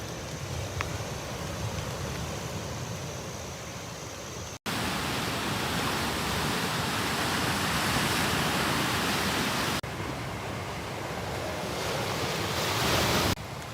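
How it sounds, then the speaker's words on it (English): Ocean surf on the Noosa coastline of Australia in rain, a steady broad wash of waves and rainfall running loud and continuous throughout, with no clear frog or toad calls standing out and no talking. "We've got all the frogs, the toads, and then the waves."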